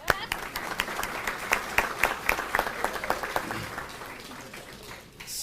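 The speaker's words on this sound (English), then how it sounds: "I was waiting for a round of applause would have happened." Applause from a banquet audience at an all-sports awards banquet, dense mixed clapping filling the room at a steady moderate level before thinning toward the end, with voices murmuring underneath.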